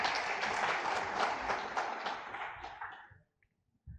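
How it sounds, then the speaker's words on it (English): A conference audience gives a round of applause for a team, dense clapping for about three seconds that fades out quickly into silence. "can I request we give the team led by Yo Uganda another big round of applause"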